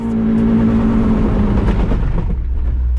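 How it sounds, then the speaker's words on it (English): A 388 whp Mazda Miata launching at a drag strip after a burnout makes a loud, close engine roar with a rapid low pulsing from wheel hop. The hop then fades out as the car moves off. "Oh, that was wheel hop."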